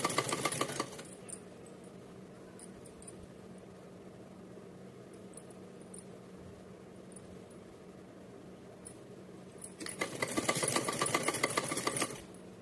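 A sewing machine stitches a folded fabric strip for a Radha Rani deity dress, running in two short loud bursts at the start and near the end, with a quiet room hum between them.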